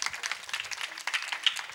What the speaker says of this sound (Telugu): అందరూ చప్పట్లు కొట్టి దేవుని మహింపరచుదాం